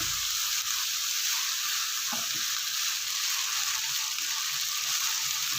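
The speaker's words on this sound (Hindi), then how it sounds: "मैं इसको अच्छे से पहले फ्राई कर लूँगी, भून लूँगी" Keema, minced meat, frying in a pan and being stirred, a continuous hiss of sizzling oil with scraping stir strokes breaking through now and then, close and steady with no talk.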